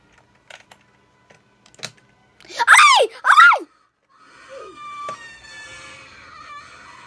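Two loud, wavering screams burst out one after another in the Roblox elevator game, preceded by sparse clicks and followed by a busy electronic, glitchy backdrop.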